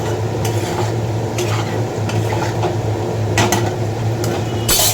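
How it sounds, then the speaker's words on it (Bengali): Ridge gourd, yardlong beans and other vegetables frying with poppy seed paste in a pan, stirred steadily: a continuous close sizzle broken by repeated scraping and clinks of the spoon against the pan, with no voices. "এই যে সব সবজি দিয়ে পোস্ত হচ্ছে।"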